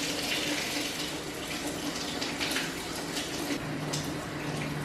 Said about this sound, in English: Ensure that the rinsed out water goes to drain and is not used for consumption.